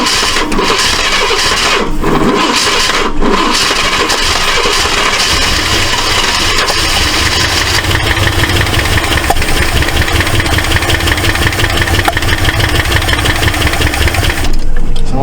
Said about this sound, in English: Sounds like we might have a stuck valve.